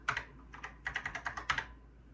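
Typing on a computer keyboard at a NABU computer running CP/M: a quick run of about a dozen soft, close key clicks in uneven bursts, faint and alone with no talk.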